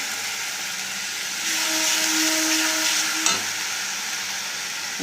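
Water poured into a hot frying pan over fried onion-garlic paste while making prawn and soya chunk kofta, giving a steady broadband hiss that swells for a couple of seconds and then settles into continuous sizzling.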